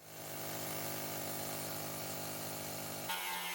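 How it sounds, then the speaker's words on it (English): A needle scaler chatters steadily against the paint and rust of a Land Rover 110 body, a dense, loud buzzing rattle that runs without pause for about three seconds before the tone shifts abruptly near the end. "It's actually a needle scaler, but angry nibbler works and it's really good for paint and rust removal."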